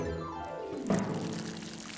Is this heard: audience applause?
no